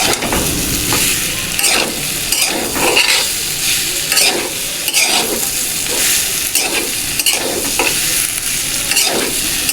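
Soybeans fry in a pan while being stirred, making a loud, steady sizzle broken by repeated scraping strokes that come in a loose rhythm. The sound is close and continuous, with no talking.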